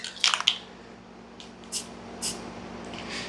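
Short hissing bursts of spray paint over a car bumper, a cluster of quick sprays at the start followed by a few brief, softer puffs, close and alone.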